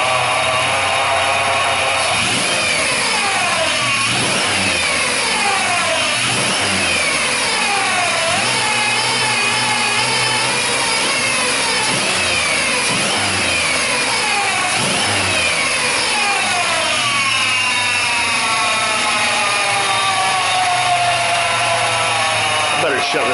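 A Buick LeSabre engine with a MAF sensor fault revs repeatedly under throttle, loud and close, its pitch rising and falling in repeated sweeps.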